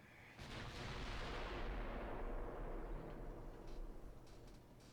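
Naval guns firing in the warship strategy game Ultimate Admiral Dreadnoughts, with 6-inch guns engaging at range: a sustained, rumbling barrage of deep booms that swells and holds steady before easing slightly, no voices.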